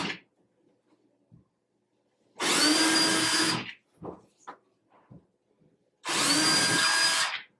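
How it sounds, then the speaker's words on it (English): Two loud, sustained bursts of a hammer drill boring into a masonry wall, each about a second long, separated by quieter handling clicks and knocks. "I'm going to grab my drill here and simply drill right through the paper template into the"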